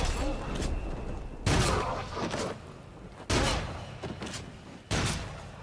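Gunshots in the VR shooting game Rush of Blood: three or four sharp, loud blasts spaced about a second and a half apart, with quieter game sounds between them.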